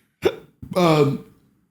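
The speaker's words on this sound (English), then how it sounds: "got the hiccups" A man with the hiccups makes two quick hiccup bursts close by, a short sharp one and then a longer voiced one.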